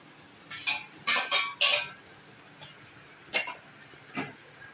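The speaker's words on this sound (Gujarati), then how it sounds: "હવે આપણે રીંગણા નાખી દઈશું" Eggplant going into a pan for a stuffed eggplant curry, heard as a handful of sharp metallic clanks and scrapes of utensils against cookware in irregular bursts, with quiet pauses between them.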